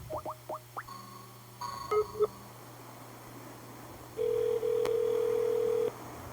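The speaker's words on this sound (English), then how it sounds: "Berd, we're calling you." A telephone call is placed: a few quick dialing beeps, then short tones, and finally a steady, fairly loud tone held for about two seconds over a low background hum.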